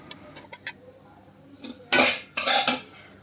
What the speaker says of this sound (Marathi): तर मी छान रवा सगळा अर्धा किलो भाजून घेते